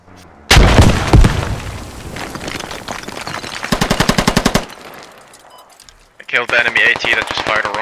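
A rocket explosion and gunfire in the video game Squad: a sudden loud blast, then a rapid burst of automatic fire, with more chattering shots and radio-like voices over the shooting near the end.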